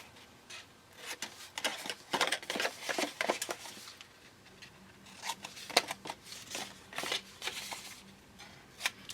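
Scissors trim a handmade Christmas paper craft project, a series of quiet, close snipping and rustling strokes in short irregular clusters, with no talking.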